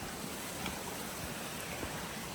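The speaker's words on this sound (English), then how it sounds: "that's how you do a water crossing with an audience" A hiker crosses a stream rock to rock on a trail near Franklin, North Carolina, with steady broadband rushing of flowing water, faint and continuous, no voices.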